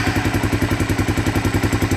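A Honda Big Red 250ES ATV engine idles at about 1400 RPM with a steady, even chug, loud and close, with nothing else heard.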